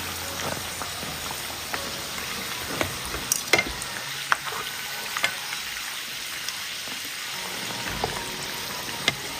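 An evening snack deep-frying in hot oil as oil is ladled over it gives a steady, soft bubbling hiss, broken by scattered sharp crackles and pops.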